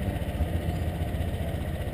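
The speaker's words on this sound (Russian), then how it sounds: "Нажав на эту кнопочку, завести байк." A motorbike engine, a rental scooter-type bike in Thailand, running steadily at idle right after starting, a continuous low throbbing rumble close by with no talk over it.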